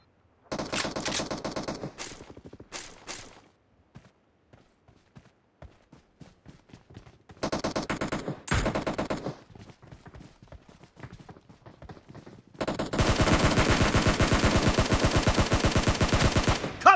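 Bursts of automatic gunfire from PUBG Mobile in a multiplayer death match, sharp rapid volleys separated by quieter stretches with scattered single shots, ending in a long, loud sustained barrage.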